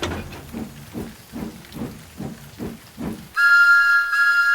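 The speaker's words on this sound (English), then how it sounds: "Then he heard a whistle." A steam locomotive whistle on a model train sounds loud and sustained with bright harmonic tones, following a steady rhythmic chuffing of the engine.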